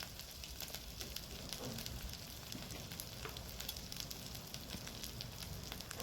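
Ground spices with coriander powder sizzling and frying steadily in hot oil for a Bengali rohu fish curry, a dense continuous crackle with small pops, close and alone without voices.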